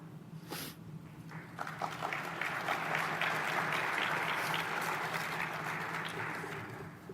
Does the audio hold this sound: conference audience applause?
yes